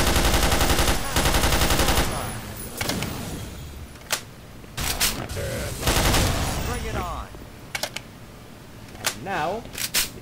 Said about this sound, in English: Load the gun. Switch to the M4.